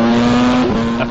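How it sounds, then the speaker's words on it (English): A Formula 1 car races down the long straight at Yas Marina in Abu Dhabi at over 300 km/h, its loud, steady high-pitched engine tone close by with a brief pitch shift as it passes. "Track test driver Jamie Campbell-Walter is calmly hitting a top speed of more than 300 kilometers an hour."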